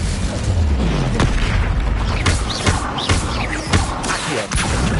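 Spells cast in Hogwarts Legacy, including fire and levitation charms, burst out as repeated booming blasts and whooshing impacts over a dense, continuous game soundscape, loud and close, with no speech.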